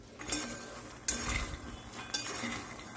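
Makhana chivda with oil, peanuts and cashews is stirred from the bottom up in a pan, giving soft scraping and light clinks over a faint sizzle, close and quiet, with no voices.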